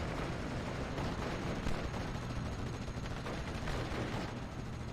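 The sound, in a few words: gunfire in video game Steel Division: Normandy 44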